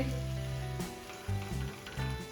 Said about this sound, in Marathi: आता आपल्याला पलटी मारून घ्यायची आहे पावला आणि छान एक मिनिट भाजून घ्यायचे आहे